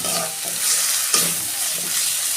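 Spices and tomato frying in a pan with chili, coriander and cumin, stirred with steady scraping over a continuous close sizzle, with brief louder stirring bursts.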